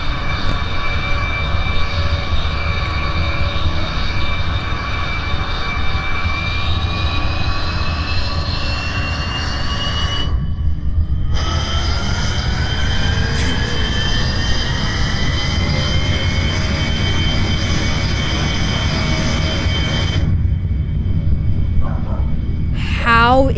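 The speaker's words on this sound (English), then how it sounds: "time to fly a plane" Airplane engine in the driving game BeamNG.drive, a loud continuous droning whine with rising and falling tonal harmonics, interrupted by two brief dropouts, sustained throughout at close range.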